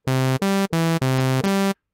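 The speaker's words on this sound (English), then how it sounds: "Just the basic sawtooth" A loud, buzzy sawtooth synth from NI Massive plays five choppy notes in quick succession, bright and harmonically dense, then cuts off.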